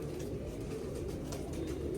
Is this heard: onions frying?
no